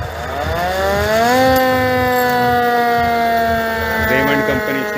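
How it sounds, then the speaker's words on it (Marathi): A vintage vehicle's siren at a vintage car show in Mumbai wails loudly, its tone rising over the first second and then holding a steady, sustained pitch. Faint crowd noise runs underneath. "जबरदस्त व्हेकल विथ सायरन सिस्टम."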